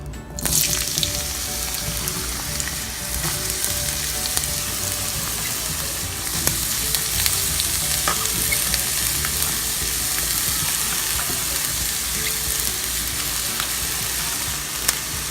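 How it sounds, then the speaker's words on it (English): Onion sautéing in hot oil for chutney sizzles and crackles loudly and steadily throughout, a dense close frying hiss with occasional stirring clinks and no talking. "We have to saute this onion until it becomes brown"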